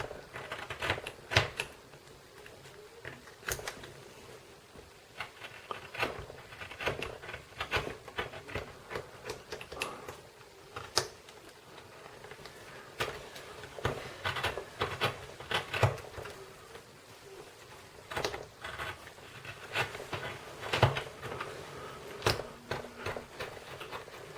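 Paper being trimmed along its edge while making a paper M1911 pistol model, a quiet, steady run of small crisp snips and ticks close by, with no talking.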